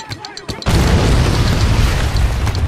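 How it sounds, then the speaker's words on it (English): A mortar shell bursts in Spec Ops: The Line, a loud, heavy boom that hits hard after a brief stretch of background voice, then rolls out into a long, dense rumble of debris and blast noise. "Prepping mortar. Fire!"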